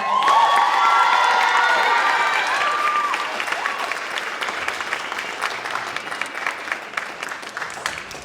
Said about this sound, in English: Another round of applause for the Farmingdale.